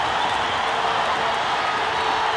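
Dense, steady roar of an arena crowd cheering at a wrestling match, a continuous loud wash of voices and applause filling the whole stretch without any distinct speech.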